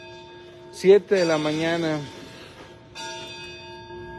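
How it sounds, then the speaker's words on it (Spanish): Church bells in Jiquilpan ring to call people to mass, a sustained metallic tone heard under a man's nearby speech before ringing on alone. "Tocando las campanas para indicarnos, Jiquilpan, ya es hora, vénganse a misa"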